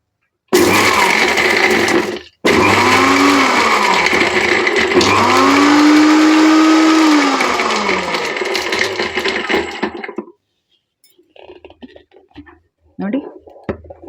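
A mixer grinder blends cumin powder and spices for a wood apple drink, a loud close whirring roar that runs about ten seconds with a short break early on, then gives way to quieter clattering.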